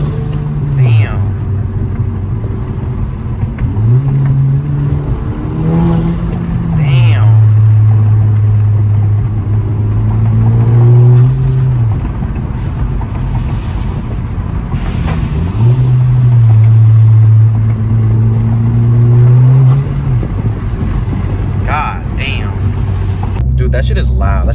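A Honda Civic Si fitted with a PRL Cobra intake revs and accelerates in repeated pulls, engine drone rising and falling in pitch with gear changes, loud and close, with voices talking over it.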